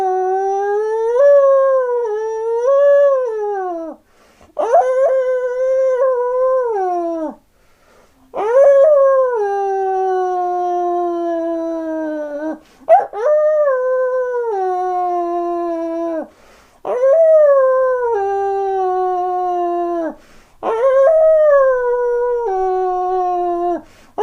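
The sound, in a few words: person imitating a dog howling at the moon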